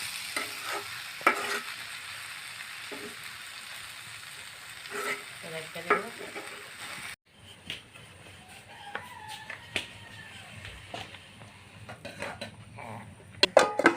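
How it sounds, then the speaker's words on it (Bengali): Potato bhaji being stirred as it fries in a pan in a village kitchen: a low sizzle runs throughout, with scattered spatula scrapes and clacks. A rooster crows faintly in the distance. "আলু ভাজিটা প্রায় সিদ্ধ হয়ে গেছে। আর একটু ডাইকে নাড়াচাড়া দিব, নাড়াচাড়া দিলেই হয়ে যাবে।"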